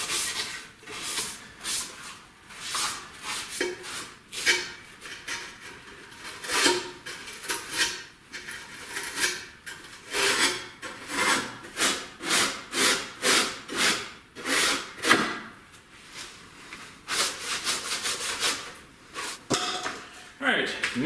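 A scuff pad scrubs the body surfaces of a Toyota Camry project car in repeated back-and-forth strokes, a rhythmic close rasping with short pauses between passes.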